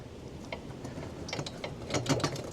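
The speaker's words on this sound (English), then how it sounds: "as we jiggle out the axle" Rear wheel axle of a Honda CB125F being jiggled out of the swing arm, giving a few light metallic clicks and rattles that start sparse and cluster toward the end, close and fairly quiet.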